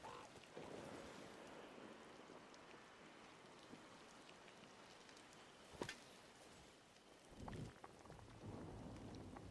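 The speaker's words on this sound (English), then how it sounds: "I like this rainstorm that's going on right now." Rainstorm in the video game Disney Dreamlight Valley, steady hissing rain on surfaces with a sharp crack of thunder midway and a low rolling rumble afterward, quiet and continuous.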